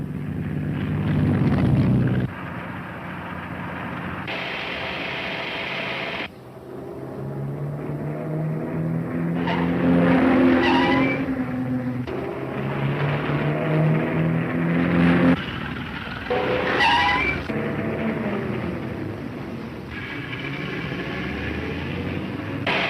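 Car speeding away in a radio serial chase scene, a loud engine roar alone with no talk, rising and cutting between bursts and swells, with higher whining passages like straining tires.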